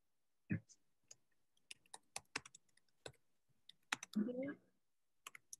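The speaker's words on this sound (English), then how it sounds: "who's typing?" Sparse, quiet clicks of keys being typed on a computer keyboard during an online class call, irregular taps spread across the clip with a brief voice sound near the start and another near the end.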